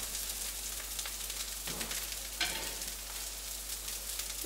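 Dosa batter sizzles in hot oil on a pan, a steady broadband crackle with a couple of sharper pops partway through, close and moderately loud, with no voices.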